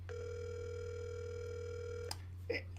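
A telephone line gives a single steady electronic ringing tone for about two seconds over a low constant hum, faint and alone, followed by a brief soft click.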